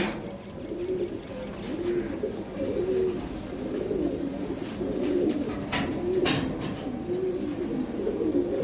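Giribaz high-flyer racer pigeons coo nearby in soft, repeated rolling calls over steady background noise, with a few brief clicks and rustles partway through.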